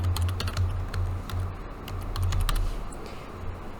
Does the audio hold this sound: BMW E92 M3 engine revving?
no